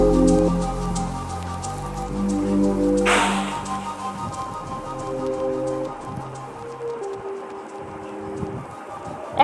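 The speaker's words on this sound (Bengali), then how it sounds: "তেল গরম হয়ে এলে আমি দিয়ে দেব পেঁয়াজ কুচি।" Chopped onions drop into hot oil for a desi chicken dish, a sharp burst of sizzle about a third of the way in, then a steady close crackling spatter that continues over a low sustained tonal hum, with no voices.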